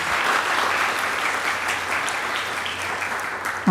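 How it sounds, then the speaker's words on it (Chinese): Church congregation clapping to welcome a first-time visitor at a Mandarin worship service, a dense, steady round of applause from many hands that lasts the whole moment, close and loud. "我们拍手欢迎她"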